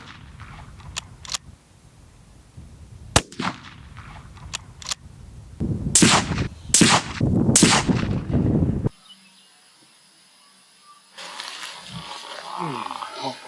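A rifle fitted with a NiteSite NS200 night-vision unit fires one sharp, loud report partway through, amid quieter clicks and handling noises, with a stretch of near-silence and soft background hiss afterwards.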